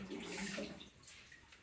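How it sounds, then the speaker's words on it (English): A hand stirs clay slip in a bucket of water, reaching down to the bottom to break lumps and chunks into suspension; a close, steady sloshing and swirling, loudest early and easing off, with no voices. "You want to come down into this bucket and put my hand all the way in the bottom and get all of the lumps and chunks off the bottom"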